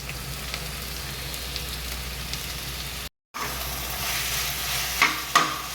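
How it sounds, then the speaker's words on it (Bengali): Chicken pieces hit hot oil already frying with ginger and garlic, giving a steady loud sizzle with stirring scrapes, a brief break, then a brighter, louder crackle with a few sharp spatters near the end. "এবার আমরা চিকেনটাকে দিয়ে দিচ্ছি।"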